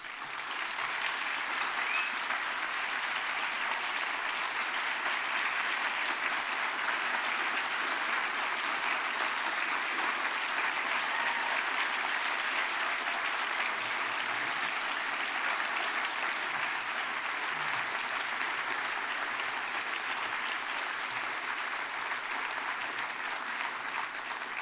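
A conference crowd applauds after a keynote speech, a long, sustained roar of clapping from a large audience that holds steady and full for the whole stretch without any speech.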